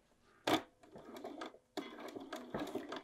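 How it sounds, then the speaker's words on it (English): Sewing machine stitching fabric with a short back tack to secure a line of stitching, heard as quiet, close bursts of rapid mechanical whirring separated by brief pauses. "back tack a tiny bit there just to keep this line of stitching secure"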